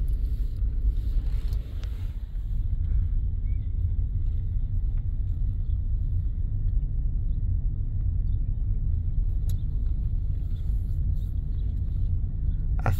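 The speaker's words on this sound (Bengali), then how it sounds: "গাড়ি নিউট্রালে আছে।" A car rolls in neutral, a steady low rumble of tyres and road heard from inside with a few faint clicks, no voices.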